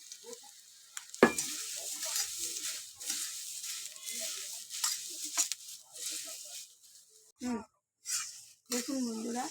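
Puffed rice tossed in a pan with onion and chilli crackles and sizzles in short, uneven bursts of stirring and scraping, with a person talking intermittently between the sounds.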